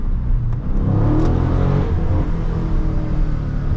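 Dodge Scat Pack widebody engine held in second gear, droning and revving at high RPM, a steady loud rumble heard from inside the car with small surges and no talk.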